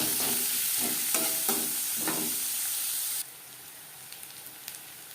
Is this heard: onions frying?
yes